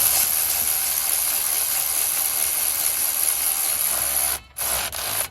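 Ratchet driving bolts into the wheel hub bearing of a 2003 GMC Yukon Denali: dense, rapid clicking rasp held continuously up close, breaking off briefly near the end before resuming in short bursts.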